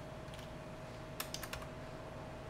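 Several quick keystrokes tapped out on a computer keyboard while flashing an AIO412 flight controller board, a short cluster of clicks near the middle over a steady background hum.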